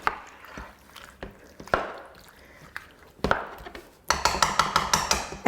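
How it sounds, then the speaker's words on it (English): Karahi chicken with ginger, garlic and spices being stirred in a pot, with scattered clinks and scrapes of a utensil against metal, ending in a fast run of sharp, close, rhythmic clatters. "just mix it well."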